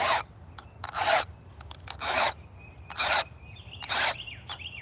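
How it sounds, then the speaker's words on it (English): A hand file rasps across a chainsaw chain in five or six short, even strokes about a second apart, close and crisp, with faint birdsong between strokes. "You should always, from what I understand, sharpen your chain before you use it."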